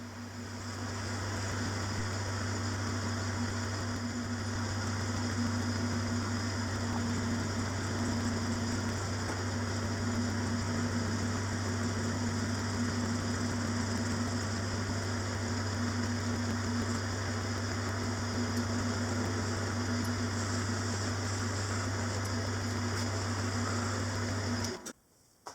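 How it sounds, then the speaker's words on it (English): Metal lathe turning an end cover for a Stuart oscillating engine cylinder, a steady droning hum with a constant low tone that runs unbroken for about twenty-five seconds, then cuts off abruptly. "Turning these features is just a very straightforward turning operation."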